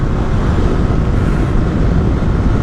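Strong wind roars steadily past the microphone while a Yamaha R15 V3 motorcycle is ridden on an open road, a loud, constant rush with no voices.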